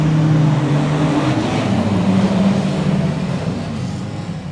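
Stock car engines roar together at the start of the Dash for Cash race at Oceanview, a loud, close, rumbling drone with shifting engine pitches that eases slightly toward the end.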